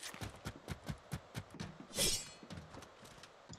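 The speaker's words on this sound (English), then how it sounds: "He hears your footsteps." Player footsteps in a murder-mystery video game: a steady run of regular, fairly close thumping steps, about two per second, with a brief louder hissy burst midway.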